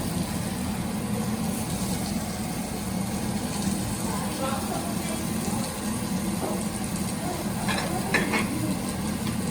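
Prawns sautéing in olive oil in a pan, a steady low sizzle with faint stirring scrapes, while a person talks over the cooking.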